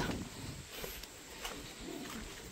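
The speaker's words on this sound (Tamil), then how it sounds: "புறா" Pigeons cooing on a rooftop farm, soft low calls in a couple of brief bursts against steady background noise, fairly faint and without talk.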